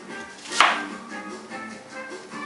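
An onion being chopped in a Vidalia Onion Wizard chopper, one sharp thunk of the plunger followed by a low rustling background, no speech.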